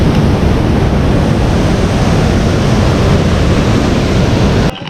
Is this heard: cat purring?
no